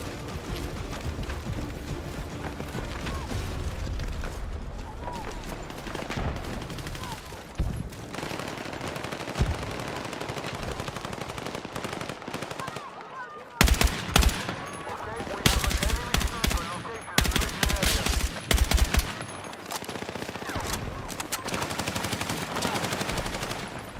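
Rapid gunfire from a first-person shooter match, bursts of automatic fire and sharp shots crackling in dense clusters, loud and continuous with brief pauses, game audio filling the whole stretch.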